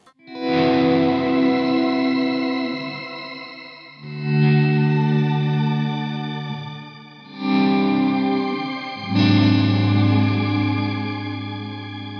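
Electric guitar chords through a Strymon BigSky shimmer reverb ringing in a lush, shimmering wash, four sustained swells with octave-up sparkle, no voices.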